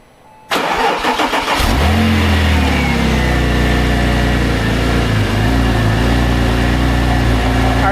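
A Porsche 911 (996) Turbo engine cranks and catches, revs briefly, then settles into a loud, steady idle that continues close by without letup, after an accessory belt change.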